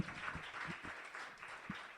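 Applause for a slam poet at a poetry slam, a diffuse wash of clapping from the crowd with a few distinct nearer claps and thumps, heard fairly faint and sustained throughout.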